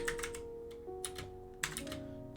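Keys clatter on a computer keyboard in quick irregular bursts of clicks with short pauses, close and fairly quiet, no talking.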